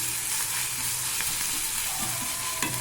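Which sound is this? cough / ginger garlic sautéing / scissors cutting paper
ginger garlic sautéing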